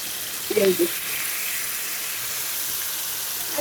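Tandoori chicken pieces frying together in a large frying pan produce a steady, bright, close hiss of sizzling oil, with a brief clatter near the start.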